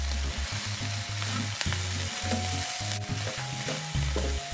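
Sliced jicama cooking covered in a pan over medium heat, giving a steady close sizzle and frying hiss with rhythmic low stirring bumps throughout, no voices.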